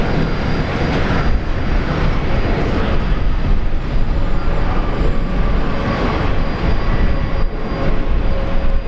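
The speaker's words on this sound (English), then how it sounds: "Arriving from Auckland." A Boeing Dreamliner airliner arriving from Auckland at Brisbane Airport, a loud, steady broadband engine roar that holds nearly constant across the whole stretch, close by and unbroken, with no voices.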